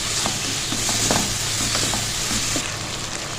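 Chicken fried rice is stir-fried in a pan over a high flame, giving a steady, close sizzle with repeated light spatula taps and scrapes running through it and no voices.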